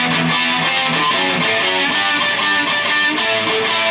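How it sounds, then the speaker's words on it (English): Electric guitar power chords in a riff, played as a steady, rhythmic strummed pattern at moderate loudness with a gritty edge and no talking. "because if you use the power chord, it would sound different"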